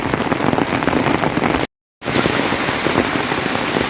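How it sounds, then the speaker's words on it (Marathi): Heavy rain pours down outdoors near a stream and bridge, a dense, loud, continuous hiss of drops on surfaces, broken by one short dropout partway through. "पण पाऊस खूप आहे"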